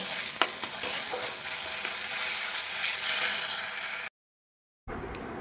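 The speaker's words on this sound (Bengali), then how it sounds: "এটা এখন আমি কষাতে থাকবো যতক্ষণ না এটা একদম শুকিয়ে যাচ্ছে।" Yardlong bean paste with a pinch of asafoetida stir-fried in a pan, giving a steady close sizzle with scraping stirs throughout, cutting to silence briefly before the frying resumes.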